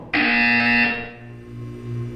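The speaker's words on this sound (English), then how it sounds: "When you hear the buzzer, look down at the floor." Portal 2 test-chamber buzzer, a loud harsh electronic tone that sounds once for about a second, then fades into a lower lingering hum, with no talking over it.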